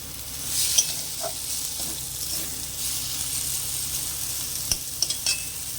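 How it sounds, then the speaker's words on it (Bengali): Grated coconut frying with ground spices and fried fish in a pan for a Bengali prawn dish, a steady close sizzle with soft scraping stirs and a few sharp clicks of the spatula near the end. "দিয়ে ভালো করে কষিয়ে নেব মশলার সাথে।"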